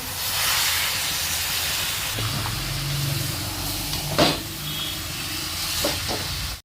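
Jackfruit curry with potatoes hisses and sizzles in a hot pan as water is added, a continuous steamy fizz with a few brief clinks and stirring sounds.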